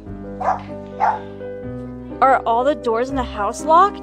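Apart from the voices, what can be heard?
dog Chloe barking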